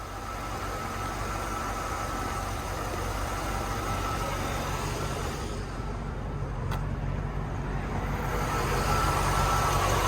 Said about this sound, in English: This motor literally hums like it's brand new.